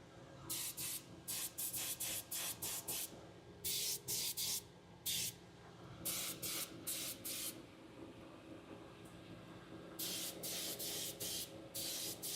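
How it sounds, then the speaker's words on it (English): Aerosol spray paint hissing in repeated short bursts over small donut-shaped baby shark figures, each burst about half a second to a second long with brief gaps, close and steady with no talking. "I'm just going to go through and spray each one of these"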